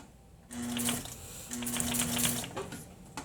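A sewing machine backstitches the seam of a fabric box cushion in two short mechanical bursts of rapid needle chatter, close and fairly quiet.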